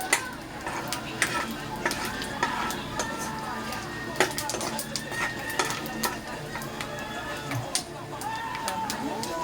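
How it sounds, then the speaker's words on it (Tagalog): Garlic sautés in oil in a pan for a pork dish with pechay and cabbage, a steady close sizzle punctuated by frequent utensil scrapes and clinks while someone talks. "Nagigisa na natin itong bawang."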